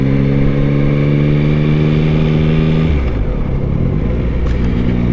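A 2023 Yamaha MT-09 motorcycle engine runs close and loud, holding a steady revving drone that drops in pitch about halfway, then settles into a rougher, lower idle.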